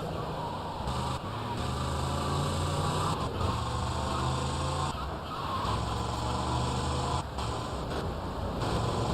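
A car engine drones continuously in GTA Vice City, a steady mid-level hum with slight pitch shifts, under game music and ambient noise.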